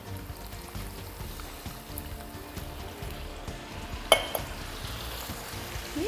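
Stock poured into a hot pan sizzles steadily while cooking shepherd's pie, a soft continuous fizz with a single sharp clink partway through and no talking.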